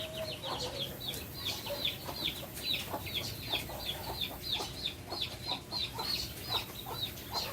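A pair of birds nesting in a mango tree give repeated short, chirpy clucking calls at a fairly steady rhythm, moderately near over faint outdoor background noise.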